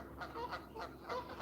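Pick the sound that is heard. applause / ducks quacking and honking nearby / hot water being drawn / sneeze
ducks quacking and honking nearby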